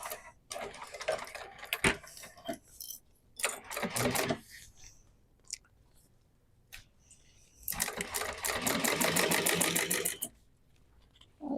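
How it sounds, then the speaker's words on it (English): A sewing machine top stitching a duffel bag runs in quick rattling bursts, several short runs and then one longer sustained run, close by with quiet pauses between them. "And then we're going to top stitch this."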